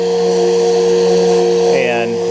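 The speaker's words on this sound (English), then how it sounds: "She's sanding it out." A power sander hums with a steady, droning motor whine that holds evenly throughout while sanding a wooden boat deck, fairly loud and close.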